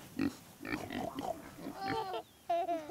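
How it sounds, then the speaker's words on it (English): Cartoon farm pigs oinking on a children's show, several short grunting oinks in a row followed by higher squealing calls, loud and close with no talk over them. "The pigs make this sound."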